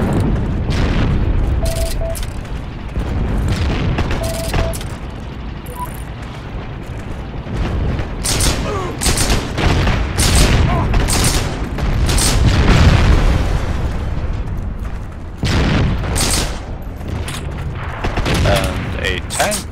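Tank cannon fire and explosions in the video game Heroes & Generals, a dense run of loud booms and blasts over constant battlefield rumble, with someone talking intermittently.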